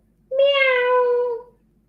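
A single drawn-out meow, bright and tonal, rises then slowly falls, voiced by a child imitating a cat during a kids' yoga storytelling session, close and clear with no other sound.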